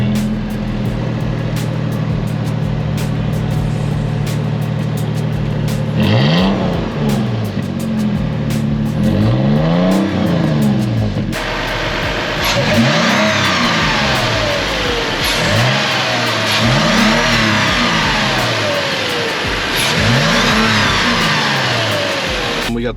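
A Toyota TRD pickup fitted with an MBRP exhaust, AirRaid intake and Pedal Commander runs at a loud, close idle, then revs hard several times in rising and falling sweeps with a deep exhaust note.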